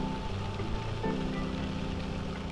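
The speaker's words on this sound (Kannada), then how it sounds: "ಸ್ವಲ್ಪ ಮಳೆ ಕಮ್ಮಿ ಆಯ್ತು ಈಗ" Light rain falls steadily during a forest ride at Kabbinale, a dense, even hiss of drops with a low rumble underneath and no clear voices.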